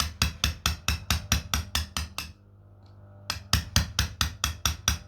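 A hammer strikes hard, fractious slate stone in quick regular blows, about ten crisp ringing impacts, then a short pause, then another steady run of strikes, loud and close.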